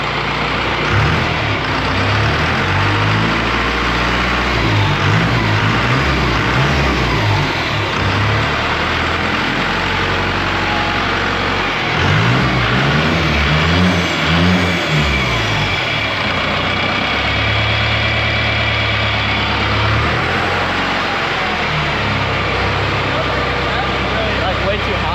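A 4BT Cummins diesel in a Ford Bronco runs loud and close, its low rumble rising and falling through several revs, with people talking over it.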